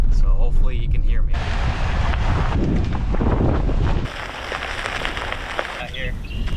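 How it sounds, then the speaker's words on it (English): Strong wind at an outdoor fishing spot buffets the microphone with a heavy, low, rumbling roar that gusts and eases unevenly throughout. "It's a little windy out here"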